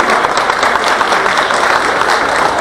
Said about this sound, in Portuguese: Pode aplaudir a Alvira, que ela merece, gente.